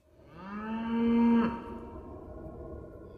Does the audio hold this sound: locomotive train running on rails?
no